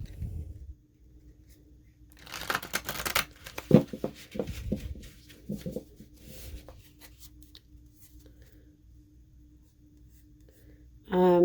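Papery riffling and rubbing of shiny Starman Tarot cards being shuffled in short bursts, moderately close, with quiet handling noise between and a brief louder thump at the end.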